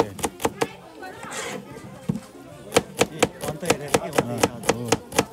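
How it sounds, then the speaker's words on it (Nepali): A knife chops onions into rounds on a board, first a few separate thunks, then a brisk regular run of sharp cuts, close and loud, with voices talking in the background. "नहेरिकन आँखा चिम्लेर ल भाइ चाहिँ गोलबाट काट्दैछ"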